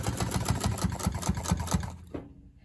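An industrial sewing machine stitches leather in a fast, even run of mechanical thumps for about two seconds, loud and close, then stops abruptly with a faint clunk.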